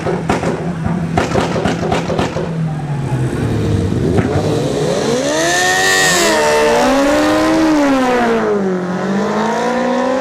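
Honda CBR 1000 motorcycles drag racing at a dragstrip, a loud idle burbling before high-pitched engines rev and scream through rising and falling gear changes, close and sustained.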